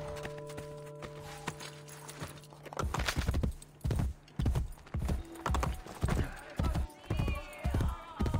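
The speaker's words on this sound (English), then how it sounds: "Horse? Horse." Horse hooves clip-clop in a regular rhythm across a stone area in Assassin's Creed: Brotherhood, loud and close, following a quieter stretch of ambient music with a brief whinny.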